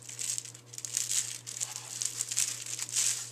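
Foil tissue paper crinkles steadily up close while being arranged into a small circle in a handmade graduation centerpiece, soft continuous rustling over a low electrical hum.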